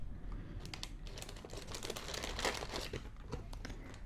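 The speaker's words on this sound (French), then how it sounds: "Je retire doucement le papier." Tissue paper crinkles and rustles steadily at close range as it is slowly lifted out of a box of New Balance sneakers, with dense, continuous crackling and no talk.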